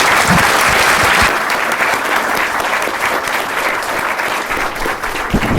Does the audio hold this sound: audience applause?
yes